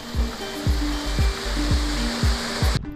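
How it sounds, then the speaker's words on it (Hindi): Waterfall along the Kalsubai trek route in rain, a steady broad rush of falling water that stays loud throughout, with low thumping bursts over it and a sudden cut near the end. "ट्रैक के रास्ते में ये सुंदर सा झरना भी आता है जिसे हमें पार करके आगे जाना है।"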